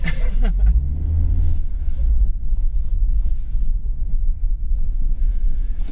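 An Opel Omega 2.4i engine, a barn find parked for years, rumbles low and steady after a brief rev at the start, with wind buffeting the microphone throughout.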